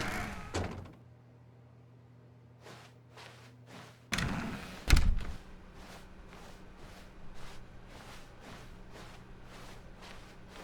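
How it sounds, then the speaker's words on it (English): Door sounds in The Stanley Parable video game, a heavy thunk and a door movement with a solid thud, followed by a steady run of soft footsteps on a hard office floor under a low room hum. "When Stanley came to a set of 2 open doors, he entered the door on his left."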